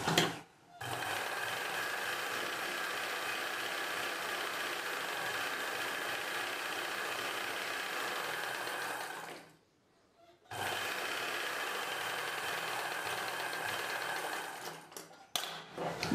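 Sewing machine running steadily while stitching the folded edge of a blouse hand piece, a long continuous mechanical whir that pauses once briefly near the middle and resumes, with short stops at the start and end.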